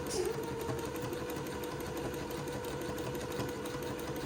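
A sewing machine zigzag stitching along an entre-deux seam on fabric, a steady close mechanical whir with fast even needle ticks throughout.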